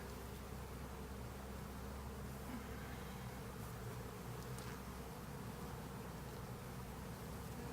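Honeybees hum steadily from an open, queenless hive while its top section is being split into a nuc, a dense continuous buzz holding close and even throughout with no voices.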